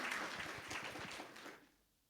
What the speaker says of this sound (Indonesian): Tepuk tangan kemuliaan bagi nama Tuhan.